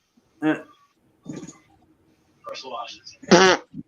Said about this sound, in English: Alexa, fart for me.